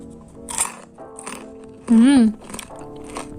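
Crunchy fried banana fritter bitten close to the mic, a few crisp crackling bites and chewing sounds, with a speaking voice rising loudly in the middle.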